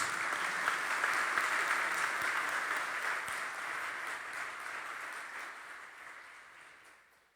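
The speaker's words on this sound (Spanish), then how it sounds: "Dale un fuerte aplauso al Señor Jesús." A church congregation breaks into loud, sustained applause, a dense wash of clapping that holds steady and then gradually fades toward the end, with no talking over it.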